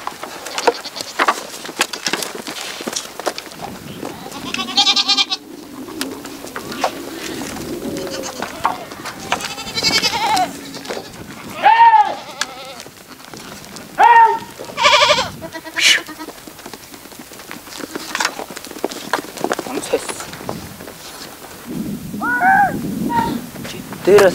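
A flock of sheep in Tuva bleats loudly and close by, with repeated overlapping calls spread through the clip and birds and insects audible in the background.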